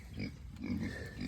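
Feeder pigs grunting at feeding time on a farm during summer morning chores, a few low rough grunts close by over steady background noise, with no talk.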